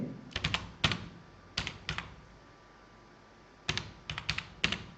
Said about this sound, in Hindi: टैब बटन दबाया कीबोर्ड से, फिर इंटर मारेंगे।